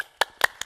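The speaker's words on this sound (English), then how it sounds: "let's give a huge round of applause to close the case for the proposition side" Several sharp hand claps in a sparse, uneven rhythm, close by and fairly loud, as a debate audience starts to applaud the proposition side.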